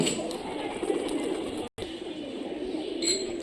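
Domestic pigeons, old fancy breeds kept in Rajshahi, give soft low cooing murmurs over a steady close background hum, continuing around a brief dropout.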